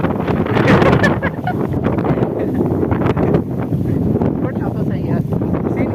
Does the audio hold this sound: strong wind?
yes